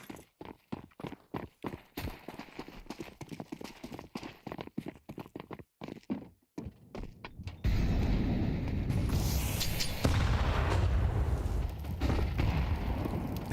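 Grenade blasts in a professional Counter-Strike tournament match: rapid clattering clicks give way to a loud, sustained roar of explosions that fills the rest of the moment.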